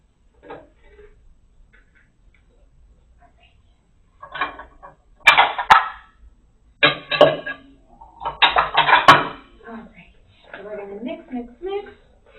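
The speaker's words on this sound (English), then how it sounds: "And now we're going to add our wild rice." Wild rice being added and mixed into a bowl, bursts of grainy rattling and scraping against the bowl with light clinks, close and intermittent with quiet gaps between.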